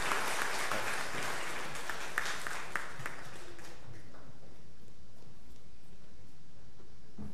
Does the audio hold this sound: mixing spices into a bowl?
no